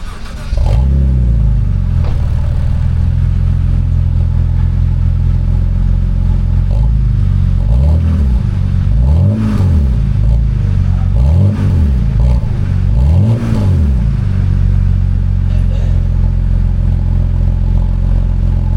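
A 2010 BMW Z4 roadster engine starting up, then idling with a run of five or so short revs that climb and drop in a regular rhythm, loud and close, then settling back to a steady idle.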